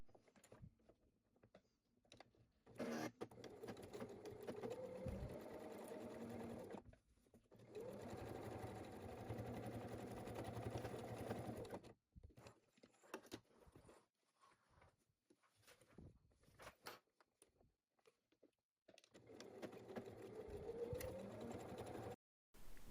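A sewing machine stitches a seam on a bag with three inner pockets, running in several long, steady bursts separated by pauses, its motor hum and rapid needle tapping fairly close.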